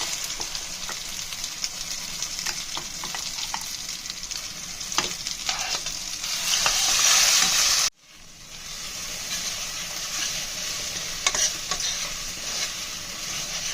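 Steady frying sizzle of ground onion-chili paste in a pan with faint stirring scrapes, a louder hissing surge partway through, then a brief break before the sizzle resumes.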